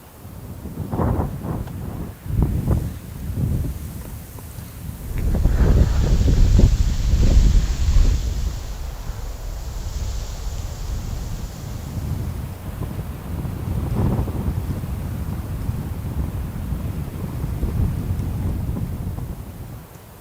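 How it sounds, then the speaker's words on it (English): Strong wind blowing across a frozen lake in deep winter cold near -28°C, a steady roaring rush with heavy buffeting gusts hitting the microphone early on, then a sustained howl, no voices. "There's quite a wind blowing over the lake and it makes it pretty nippy"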